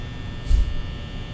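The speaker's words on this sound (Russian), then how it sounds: "Но благодаря вентилятору вы буквально находитесь в постоянном шуме, мешающим вам не только расслабиться, но и сосредоточиться на отдельных звуках." Steady electric hum of an office fan in the horror game Five Nights at Freddy's, a constant drone that runs throughout with a brief low thump near the middle.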